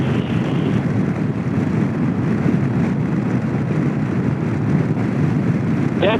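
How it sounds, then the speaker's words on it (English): Steady roaring wind buffeting the microphone while riding a scooter on the Avenue of the Giants, a continuous dense low rumble lasting throughout with no talk. "Getting windy."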